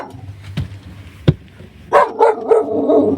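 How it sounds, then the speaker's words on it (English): A dog barks loudly nearby at an RV campsite, starting with a couple of sharp isolated thumps, then a run of deep, repeated barks. "that was a big bark"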